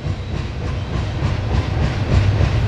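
A CSX northbound coal train passing in Marion, Ohio, a loud, close, steady rumble and rattle of rolling wagons with rhythmic clacking over the rails throughout.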